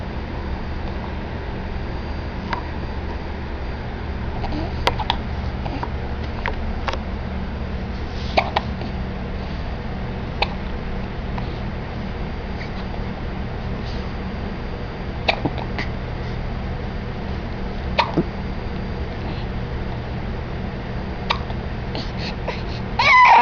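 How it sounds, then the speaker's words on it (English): A baby's hiccups: small, quick hics scattered at irregular gaps over a long quiet stretch, with faint whimpering sounds and low room noise in between. "You got the hiccups?"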